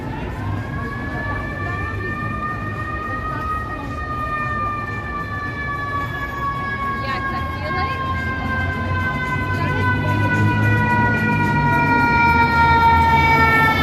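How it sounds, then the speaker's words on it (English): An emergency vehicle siren wails steadily along a downtown Toronto city street on a hot evening, its pitch sliding slowly lower as it grows louder and nearer, with traffic rumble beneath. "The siren drowned out the music"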